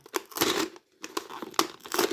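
Paper polybag of a LEGO City magazine being torn and opened, with close, loud crinkling and ripping bursts broken by a short pause, no voices.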